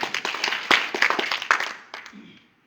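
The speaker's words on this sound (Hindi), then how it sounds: "जबरदस्त ताली होनी चाहिए।" Audience applause at a Hindi-language sales or membership presentation, a burst of scattered claps lasting about two seconds, fairly close and moderately loud, then tapering off into quiet.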